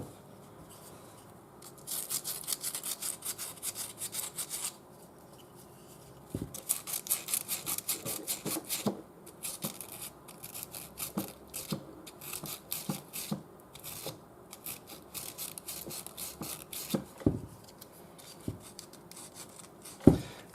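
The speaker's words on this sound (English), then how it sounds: "So next part is sandpaper. Sandpaper inside of this." Sandpaper rubbing the inside bowl of a hand-carved wooden spoon, a close, soft scratchy rasp in repeated strokes, running in bursts with short pauses and a few light knocks.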